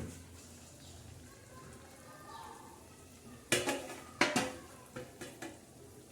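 A metal lid goes onto a pan of simmering potato-brinjal curry: two loud, ringing clanks close together, then a few lighter knocks over a quiet background.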